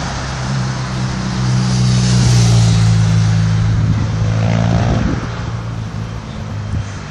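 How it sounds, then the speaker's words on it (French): Straddle carriers move around a cargo quay at Port Est, Réunion, giving a loud, steady diesel engine drone. The drone swells and eases slightly as the machines pass nearby, with no talk. "à l'arrière, ce sont les chariots cavaliers qui circulent"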